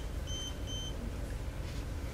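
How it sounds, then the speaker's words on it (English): Two short electronic beeps in quick succession, faint and thin over a steady low background rumble, with no talking. "Somebody's beeping."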